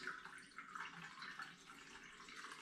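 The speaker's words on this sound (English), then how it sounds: "I'm going to pour some of this must into my sanitised hydrometer tube." Sauvignon Blanc wine must from a home wine kit is poured into a sanitised hydrometer tube, a faint, steady liquid trickle and splash heard close up.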